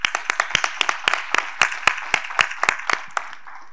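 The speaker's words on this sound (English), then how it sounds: "I think we need to give them another round of applause" A town hall business audience gives a round of applause, with sharp, fairly loud claps from a modest number of people, irregular but continuous, and no voices over it.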